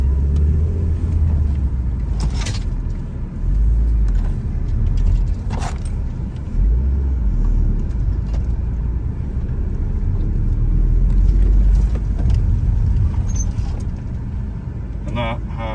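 An Audi TT drives slowly around on grass, its engine a steady low rumble that swells and eases throughout, with a few faint clicks and knocks over the top.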